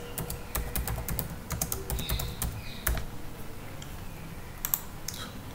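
Rapid, irregular key clicks from typing on a computer keyboard, close and moderately quiet, in short bursts with brief pauses.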